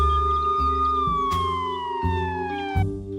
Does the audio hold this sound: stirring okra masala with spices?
no